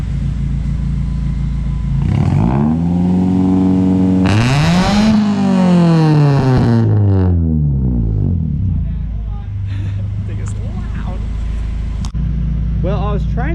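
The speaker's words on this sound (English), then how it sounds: "we're about to go and hit two-step on this thing, or launch control, traction control, whatever you want to call it" Honda engine tuned with Hondata bouncing off two-step launch control set for 4,500 RPM, a loud steady rumbling drone that surges into a rising, wavering rev before settling back to a crackling idle, close up with people talking briefly.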